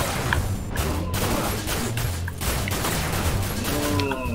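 Rapid gunfire fills the scene in Dirge of Cerberus: Final Fantasy VII, a dense fusillade of loud shots and impacts running continuously over game music.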